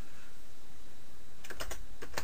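A short burst of keyboard typing for a Google search, starting after a quiet stretch: a handful of sharp, close key taps in quick succession near the end.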